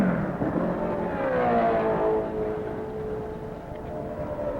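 Turbine race cars pass at the Indianapolis race, a loud sustained whooshing whine that sweeps in pitch as they go by, with no talking.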